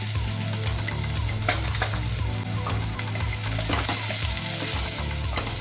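Turmeric and spices sauté in hot oil for Maharashtrian masale bhat, giving a continuous close sizzle with faint stirring clicks and scrapes throughout.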